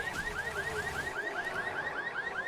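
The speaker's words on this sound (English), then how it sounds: "Interested to see if they set off an alarm here." Video game alarm wailing in a fast, repeating rising whoop, steady and moderately loud, with no talk over it.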